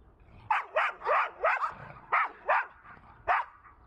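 Stray dogs on a street in Bucharest bark repeatedly, about eight sharp barks in an uneven rhythm, at moderate distance with no talk.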